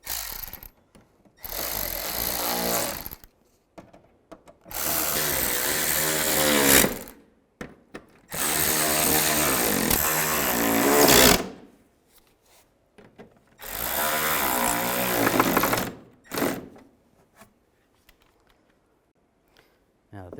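Power tool running in several loud bursts of a few seconds each, separated by short pauses, while tightening bolts on the front bumper of a 2007-13 Chevy Avalanche.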